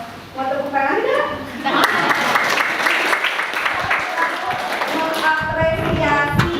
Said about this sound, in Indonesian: Mau tepuk tangan tidak?